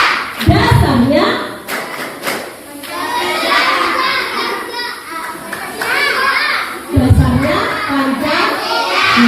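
Children's voices chanting the Tepuk Negaraku rhythm in a classroom-style group, with bursts of clapping mixed in among loud kid speech and crowd noise, an adult voice leading.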